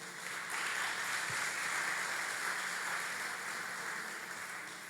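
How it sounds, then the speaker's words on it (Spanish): A church congregation gives a steady, dense burst of applause during a Sunday service, a continuous wash of many hands clapping together at an even loudness for several seconds. "Denle un fuerte aplauso al Señor."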